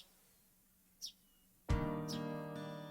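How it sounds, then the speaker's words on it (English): Faint morning birdsong outside a window in the Higurashi When They Cry visual novel gives two brief, distant chirps. A sustained musical tone swells in partway through and continues under the second chirp. "Outside the window, I could hear a morning birdsong that sounded totally different from what I heard on weekdays."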